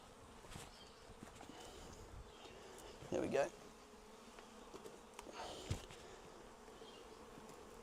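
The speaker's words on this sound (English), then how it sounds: "There's so many bees in here" Honey bees hum inside a crowded brood box during a transfer into a new Flow Hive, a faint continuous buzz with a couple of handling thumps and a brief spoken remark.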